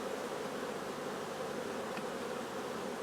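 Honeybees from a Kona-queen nucleus hum in a steady, continuous buzz while being transferred into a hive body, close and even for the whole stretch, with no talking.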